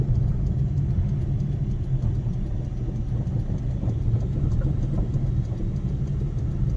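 Car engine rumbling low and steady from inside the cabin while overtaking, a constant muffled drone with no clear rise in pitch.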